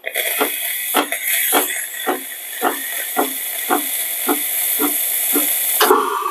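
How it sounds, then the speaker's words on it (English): A loud, continuous steam hiss from the steam wand of an Ascaso Steel Duo PID espresso machine, with rhythmic sputtering pulses about twice a second, close up, ending in a brief burst. "So now let's test the milk steaming power."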